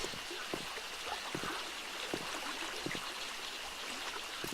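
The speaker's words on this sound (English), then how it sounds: "This is like a town of perpetual rain." Steady rain in the survival video game 7 Days to Die, a faint continuous patter and hiss of drops with occasional soft splashes, quiet and unbroken.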